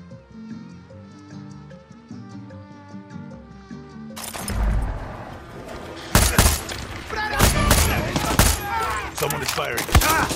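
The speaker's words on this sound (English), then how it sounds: "Someone is firing." Gunfire in the Far Cry 6 prologue: music gives way to a dense, loud barrage of rapid shots and impacts, continuing to the end with a few sharper close cracks.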